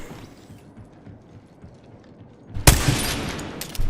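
A single loud gunshot-like blast from a video game bursts out near the end after several seconds of low ambient rumble, followed by a lingering noisy tail and a few faint clicks.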